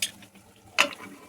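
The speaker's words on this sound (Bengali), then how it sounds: "তো তরকারিটায় আমি জল দিয়ে নিচ্ছি" Water poured into a curry of stalk vegetables frying in a pan, giving a sudden hissing sizzle partway through after a quieter background of frying and stirring.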